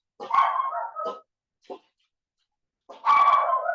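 A dog barks loudly and close by in a home yoga session, two bursts with a short yip between and a pause before the final bark.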